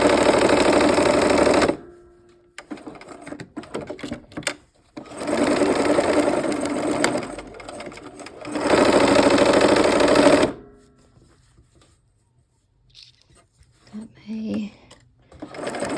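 A sewing machine stitches the last seam of a quilt block in two long steady runs, loud and close, separated by a quieter gap of handling and brief pauses, ending with faint shuffling and a short low voice.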